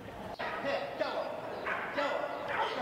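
Dogs barking at an agility display at the London Pet Show, with repeated yips and barks in a loose rhythm over a busy indoor crowd murmur and nearby chatter.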